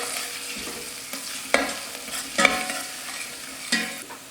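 Tomato soup ingredients and spices are stirred in a hot pot, a spoon scraping and knocking the sides in a few distinct strokes over a soft sizzle, close up with no talking.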